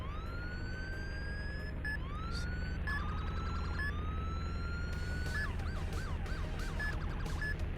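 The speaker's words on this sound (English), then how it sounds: "they changed the sirens. So the sirens now sound a lot more cooler" Police car siren from the ER:LC Roblox game on a 2000 Chevy, a loud continuous electronic wail sweeping up and holding, then switching to rapid yelp chirps, steady and close with no talk.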